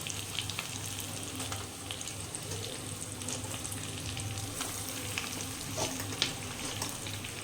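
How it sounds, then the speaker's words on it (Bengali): Boiled potatoes fry in a spiced masala for aloo paratha filling, making a continuous, even sizzle with faint scraping of stirring throughout. "মশলাটা ভালো করে কষানো হয়ে গেছে এবার দিয়ে দেবো আলুগুলো"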